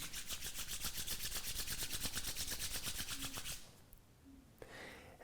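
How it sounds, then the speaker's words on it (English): Palms rubbed briskly together at heart center to open a morning yoga sadhana practice: a fast, even swishing friction for about three and a half seconds that then stops, leaving near silence. "Rub the palms together at the heart center."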